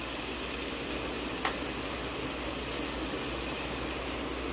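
Cut potato pieces frying in a pan for a simple potato curry, giving a steady, even sizzle that holds at a constant level throughout with no talking.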